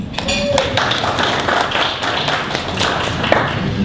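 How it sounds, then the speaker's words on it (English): A small audience at a university campus talk on entrepreneurship gives a brief round of applause, scattered claps with sharp taps standing out, moderately loud with faint voices beneath. "Let's give him a big round of applause."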